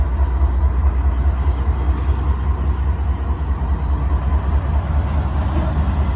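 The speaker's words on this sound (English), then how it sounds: "Dash 8 locomotives are typically used in yard service class." A GE Dash 8 diesel locomotive rolls past close by with a continuous heavy low rumble and rail noise, steady and loud throughout, without talk.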